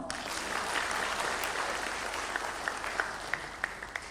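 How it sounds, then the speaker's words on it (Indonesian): Audience applause fills a Perindo party event hall, a steady wash of many hands clapping throughout, with a few sharper individual claps standing out near the end. "Tepuk tangan dong."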